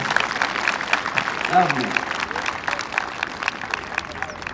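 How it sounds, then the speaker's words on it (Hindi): A school audience at a Republic Day celebration claps in a short, moderate round of applause, with a voice speaking over it and continuing after the clapping fades. "तालियां बजाइए"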